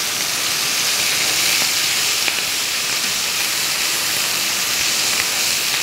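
Mutton sears over a high flame, giving a steady close sizzling hiss with faint crackles and no talk.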